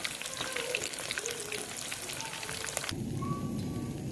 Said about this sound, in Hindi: बिल्कुल हमारी फिश फ्राई हो चुकी है